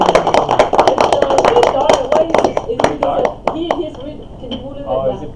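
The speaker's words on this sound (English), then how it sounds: "so we can take a picture of you guys all standing and clapping" A group of people stand and clap together at a high school meeting during a ribbon presentation, with dense, close hand claps that thin out toward the end while voices talk underneath.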